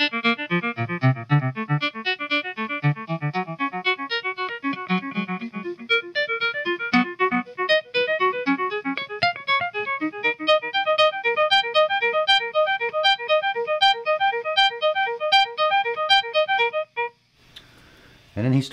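Electric guitar playing, repeating a quick figure of three descending notes over and over in a rapid, even cascade, bright and effect-laden, played up close without any voice.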